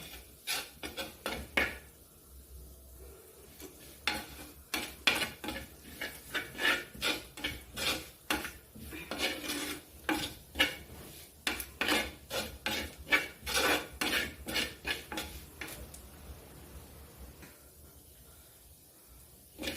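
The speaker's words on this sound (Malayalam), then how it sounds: "ഇനി നമുക്ക് എല്ലാം കൂടി ഇട്ടൊന്ന് ഇളക്കാം." Sardines cooking down with chili and spice powders in a pan, stirred and scraped with a utensil; many quick, close scrapes and clinks in irregular bursts, with no talking.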